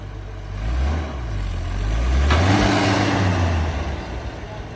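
A 1950s-style Allis Chalmers D19 farm tractor engine chugging in gear with a low, steady rumble that swells midway as the load changes, heard close and continuous throughout.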